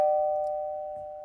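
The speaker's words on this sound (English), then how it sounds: "as the doorbell rang." A home doorbell rings once, a single clear chime that rings out and slowly fades, alone with no talking.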